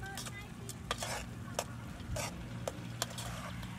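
Eel meat stir-fried in a pan in a Cambodian countryside kitchen, with steady sizzling and repeated scrapes and clinks of a utensil against the pan, close and continuous.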